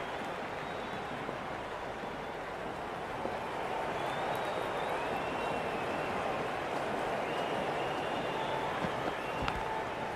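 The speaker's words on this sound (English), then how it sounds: "It's almost palpable, the excitement emanating from this crowd at the moment." A crowd at a CSK vs MI IPL cricket match in Cricket 26 keeps up a dense, steady roar and cheer that swells slightly partway through, with faint whistles on top.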